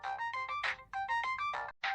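A phone ringtone plays a short, bright electronic melody of repeating tonal notes, with a brief gap before the phrase starts again, clear and close.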